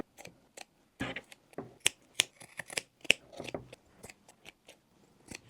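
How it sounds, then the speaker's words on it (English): Scissors snipping loose threads around a handmade tapestry hoodie: close, crisp irregular cuts and handling rustles, fairly quiet with gaps between snips. "Now I'm just gonna go around and cut and fix any of the loose strings, threads, anything like that around the whole entire hoodie."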